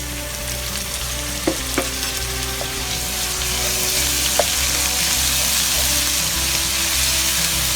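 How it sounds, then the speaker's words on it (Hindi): Steady sizzling of garlic-ginger paste frying in a hot pan, loud and close, with a few light clinks of a spoon stirring. "तो 1 मिनट इसे भूनूंगी लहसुन अदरक के पेस्ट को"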